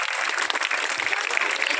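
An audience at a school parent-teacher meeting claps in a continuous burst of dense applause, filling the room steadily for a couple of seconds.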